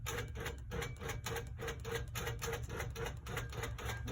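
A Handi Quilter Amara 24 longarm quilting machine stitching a customer's quilt, a faint, rapid rhythmic clatter of needle strokes in steady bursts, with no voices.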